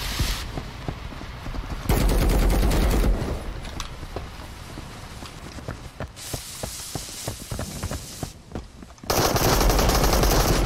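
Dense automatic gunfire from the video game Marauders, sustained and loud, with heavier bursts at the start and end and rapid shots throughout.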